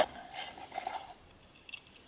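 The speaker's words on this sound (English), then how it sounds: "So I got my 10 centimeter cook kit" A 10 centimeter camping cook kit being handled outdoors: a few faint, light metallic clinks and rattles of small pots and lids, close by and quiet.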